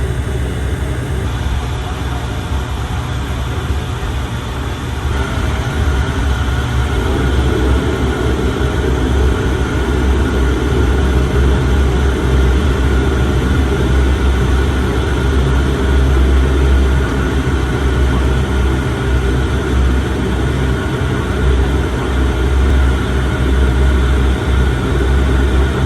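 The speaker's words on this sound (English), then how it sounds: "So with us being in the Dash 8, we're actually taxiing and end up parking off in a standoff bay here at Brisbane Airport" QantasLink Dash 8 turboprop airliner taxiing at Brisbane Airport, heard from inside the cabin as a loud, steady propeller and engine drone with a deep low rumble that holds constant throughout.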